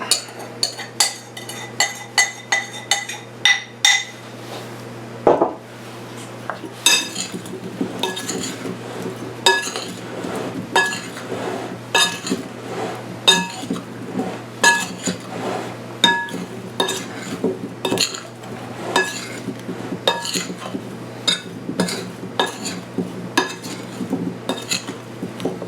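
Sliced Asian pears tossed with sugar and ground cinnamon in a bowl, with repeated clinking and scraping of a utensil against the dish in an uneven rhythm, close up with no talk.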